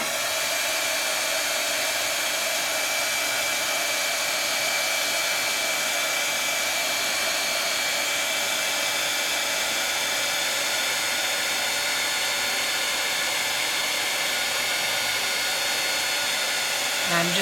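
Electric heat tool blowing steadily at close range to melt embossing powder, a continuous breathy hiss and whir that holds level the whole time.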